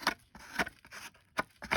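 The back of a pair of scissors is scraped along the edge of a small paper craft tag for a vintage look, giving quiet, close rasping strokes in a quick irregular rhythm.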